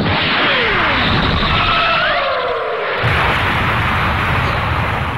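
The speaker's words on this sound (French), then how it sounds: "Alors moi ça a fait une explosion parce que voilà, c'était des dégâts aussi." A Kamehameha attack in the Minecraft mod game DragonBlock C lets out a loud, sustained blast, with a whooshing energy roar and sweeping tones that then swell into a heavy rumbling explosion, with no talk over it.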